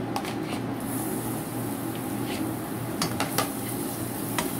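Garlic sautés in cooking oil in a pan for a Filipino noodle dish with banana blossom, a steady low sizzle beneath repeated clinks and scrapes of a utensil against the pan.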